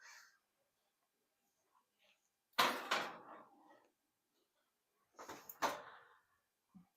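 Oven door shutting after a chocolate chip cookie cheesecake is slid back in, two separate clunks with rattling in a quiet kitchen, nearby and fairly loud.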